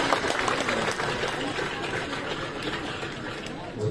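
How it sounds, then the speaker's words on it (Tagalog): Audience applause fills a hotel hall in a continuous, dense wash of clapping with a reverberant, echoing quality, steady for several seconds without pauses. "May delay, may echo ang palakpak nyo."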